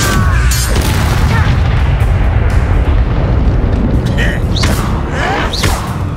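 Confringo spell explosions in Hogwarts Legacy: loud, rumbling booms fill a dense, continuous roar of combat, with sharp magical whooshes and crackles, and voice-like game sounds mixed in.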